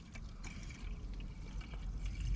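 Water is poured into the radiator of a Sprinter van to top it up, a faint, close trickle and pour over low background rumble.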